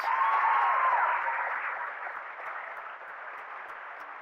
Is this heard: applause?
yes